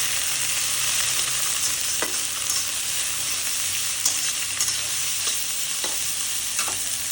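Chopped carrot, onion and capsicum sizzle steadily in a hot pan, with a few sharp stirring scrapes at intervals over a constant frying hiss, no voices.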